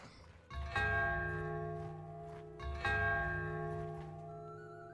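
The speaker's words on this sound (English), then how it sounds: "I don't like the sound of the failure bells" Two resonant bell tolls ring out in the video game Bannerlord as failure chimes, each struck clearly and left to decay slowly, about two seconds apart, with no talking.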